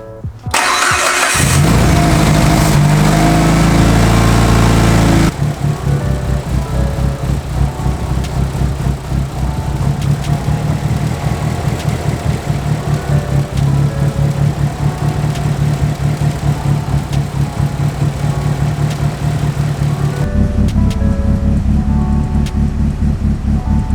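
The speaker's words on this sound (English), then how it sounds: "I'm gonna go ahead and actually fire up the car and adjust the idle" A built Mitsubishi Evo 8 cranks and fires with a loud burst, then settles into a steady, close idle with a rhythmic, slightly lumpy pulse for the rest of the run.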